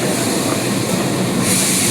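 KA Sangkuriang passenger train with an SS Gen 1 trainset departs on its inaugural run, a steady, loud rolling rumble and rail noise that brightens into a hiss toward the end.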